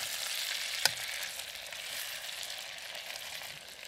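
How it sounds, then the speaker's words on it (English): Chicken meat browning in a frying pan gives off a steady, moderately quiet sizzle with a single sharp clink near the start and no voices. "Okay, then we're gonna turn this meat over the other side like that. It is browning on one side pretty good."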